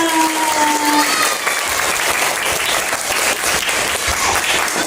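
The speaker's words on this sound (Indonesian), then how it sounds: "Tepuk tangan untuk kita semua." A crowd claps continuously and loudly throughout, dense steady applause filling the room with a brief tone early on.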